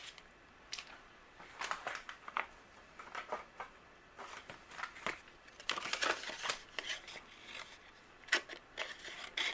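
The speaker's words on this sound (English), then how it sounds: "They cut beautifully. So you get some fine detail scissors." Small fine-detail scissors snip through paper in quiet, irregular bursts of crisp cuts and crinkles, close up with no talk.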